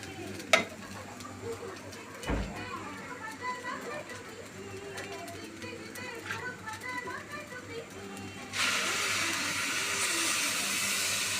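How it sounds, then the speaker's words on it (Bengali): Water pours into a hot pan of frying rice, lentils and chicken for khichuri, setting off a sudden loud, steady hissing sizzle over stirring and cooking noises, with voices in the background. "এখন আমি পানি ঢেলে দিচ্ছি।"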